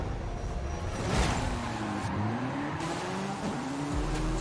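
A Corvette and other cars in Forza Horizon 5 slide about with tyre squeals that rise and fall in pitch, set against a steady engine drone and driven with a Logitech G920 wheel, no talking.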